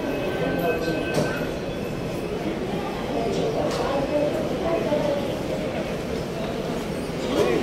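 A metro train in an underground station of the Pune metro makes a loud, continuous rumbling roar with faint squeals of the wheels that fills the whole stretch.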